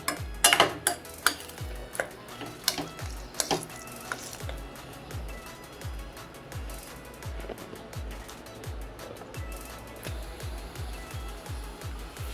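Bread pieces for bread halwa sautéed and stirred in a pan, a steady run of soft scraping strokes with light clinks, a louder burst of clatter near the start, no talking.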